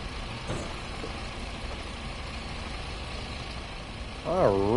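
A Scania coach engine idles with a low, steady rumble in Fernbus Simulator, constant and close, before a voice starts talking over it near the end.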